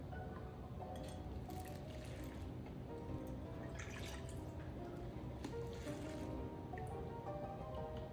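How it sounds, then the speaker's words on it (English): Au jus sauce from cooked beef is ladled into a container, heard as faint, soft liquid pouring and dripping with quiet splashes over a steady background hum. "I'm going to go ahead and ladle the au jus sauce into a container"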